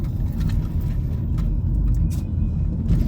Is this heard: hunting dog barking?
no